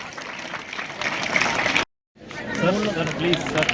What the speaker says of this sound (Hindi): और हम हमेशा अतिथि का स्वागत करें जोरदार तालियों के साथ।